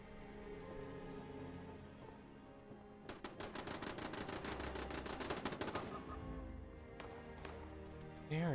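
A rapid automatic burst of gunfire rattles at the player's house in Fallout 76, loud and sustained for about three seconds midway, with a few sharp follow-up shots near the end over a steady game ambience.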